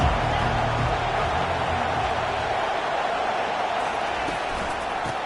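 Steady roar of a college football stadium crowd at an Auburn game, a dense, continuous wash of massed voices that holds loud and even for several seconds with no single voice standing out.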